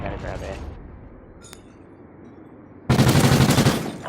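Gunfire in a first-person shooter video game: a single sharp shot, then a loud, rapid burst of automatic fire near the end, with faint voices underneath.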